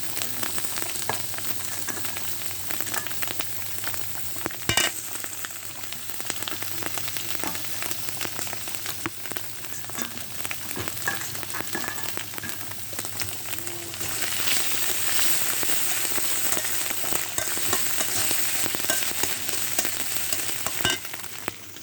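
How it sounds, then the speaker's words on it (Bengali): Garlic and ginger paste fries in a pan for a mutton curry, giving a steady close sizzle throughout with occasional stirring scrapes, growing slightly louder and denser in the second half. "রসুন আদা বাটা এগুলো দিয়ে দেবো"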